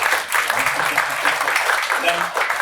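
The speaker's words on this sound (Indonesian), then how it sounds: "mari kita tepuk tangan dulu" Church congregation applauding during a worship service training session, a dense, steady wash of clapping throughout with a voice talking over it.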